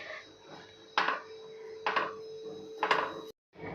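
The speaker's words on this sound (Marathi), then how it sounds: "ह्या गाठी मोडत मोडत आपल्याला भाजायचं आहे" Wheat flour is roasted in a pan over low heat and stirred to break up lumps, three distinct scraping, clacking utensil strokes about a second apart over a quiet background, ending in a brief silence.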